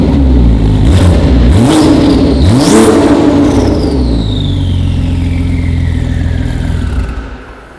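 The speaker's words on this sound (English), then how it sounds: "give it a couple of revs and see exactly how loud she is" A full carbon Porsche 935 engine revs hard twice, the pitch sweeping up and falling back each time, then settles into a loud, steady running drone close by. It fades out at the end with no talking over it.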